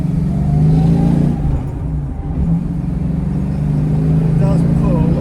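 A big American Plymouth Cuda spinning its wheels as its engine revs hard, producing a loud continuous rumble that dips briefly and then climbs again.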